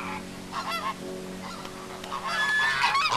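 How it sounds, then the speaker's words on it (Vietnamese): Wild ducks in an animated 3D Vietnamese fairy-tale film give loud, nasal honking calls, several overlapping squawks repeating over a steady background hum. "Anh không nhận ra đó là vịt trời à."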